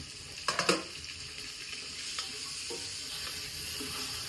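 Tomatoes drop into sizzling mutton liver gravy with a few sharp splashy bursts, followed by a continuous frying hiss and soft stirring scrapes that grow louder toward the end.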